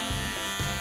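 A small electric trimmer buzzes steadily at close range while shaving off a moustache, the motor tone dipping briefly twice as it presses against the hair.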